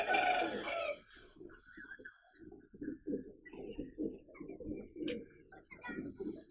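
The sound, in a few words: pigeons cooing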